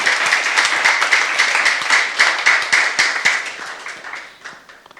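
A church youth congregation at a Korean sermon breaks into loud, dense applause, many hands clapping together close and steady before tapering off toward the end.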